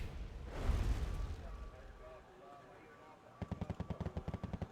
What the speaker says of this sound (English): A bombing run on the Scots here, doing a little bit of damage.